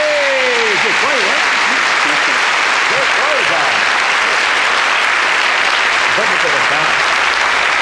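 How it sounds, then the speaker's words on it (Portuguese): Studio audience on a 1999 Brazilian TV game show breaks into loud, sustained applause with cheering voices rising over it, the clapping staying dense and constant to the end. "Uma salva de palmas."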